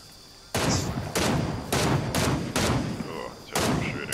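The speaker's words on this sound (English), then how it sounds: "Oh, shooting." Rapid bursts of video game gunfire crack out in loud, evenly spaced volleys after a quiet start, each one a sharp broadband blast.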